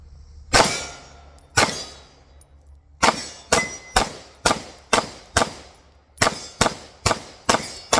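A Tisas PX9 pistol with a compensated barrel fired at a shooting range, a dozen sharp, loud reports, first spaced singly and then in quick steady strings with short pauses between.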